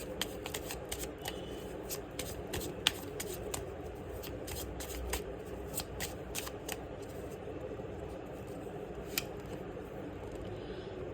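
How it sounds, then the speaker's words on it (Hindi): Tarot cards being shuffled over eleven seconds, a steady papery riffle with repeated crisp flicks and snaps, close and continuous with no voice over it. "एक कार्ड लेना चाहूँगी।"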